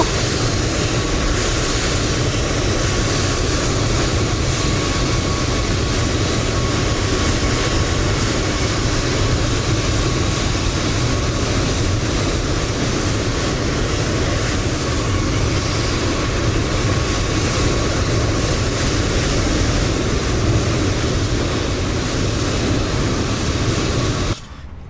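Loud, constant engine roar fills the cabin of a Eurowings airliner, a steady broadband drone with a faint hum that holds unchanged for about twenty-five seconds with no talking.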